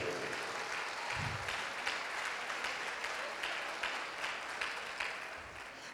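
A church congregation claps steadily throughout, a broad, even wash of applause from a crowd that stays at roughly constant loudness, with brief low thumps and no voices standing out.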